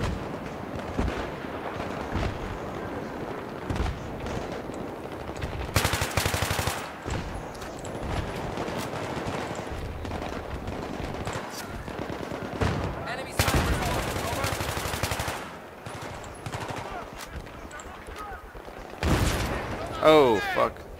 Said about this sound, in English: It's fucking toasted with mortars, man.